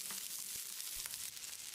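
About 150 grams of small onions sauté in a pan for chicken kulambu, giving a soft, steady sizzle with a few faint stirring clicks, quiet and continuous.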